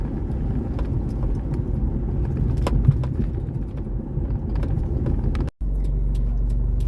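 A car drives slowly through busy town streets past a clinic, a steady low engine and road rumble inside the cabin with scattered clicks and knocks and one brief dropout near the end.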